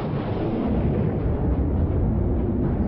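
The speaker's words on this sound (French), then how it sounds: "où on le voit des explosions régulières de fragments de lave" Volcanic explosions at Stromboli hurling fragments of lava, heard as a dense, continuous roaring rumble with crackling bursts, loud and steady throughout with no pauses.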